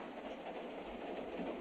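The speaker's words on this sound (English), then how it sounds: "Aboard this train, running back and forth, going nowhere." A train runs along its rails in a western action film, with a steady, even rumble and faint rattling that continue unbroken at moderate level.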